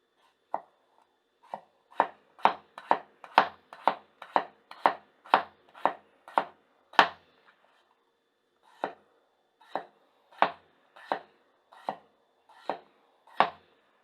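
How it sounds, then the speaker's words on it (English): A gyuto kitchen knife slices through a potato onto a cutting board, crisp rhythmic chops in a quick run of about a dozen, a pause, then another steady series, close and clear. "Cuts fairly nicely. It's not, even though the knife is a little bit thicker, it's not wedging through the potato"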